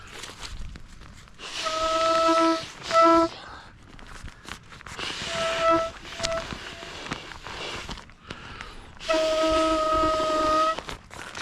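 Air escaping from an inflatable camping pillow in three separate bursts, each a steady, close whistling tone with a hissing edge, separated by short quiet gaps.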